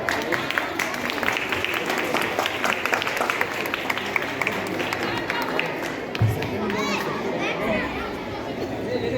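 Schoolchildren and teachers at a Children's Day celebration in a school applaud together, with a dense, steady roar of clapping mixed with children's chatter and shouts running throughout.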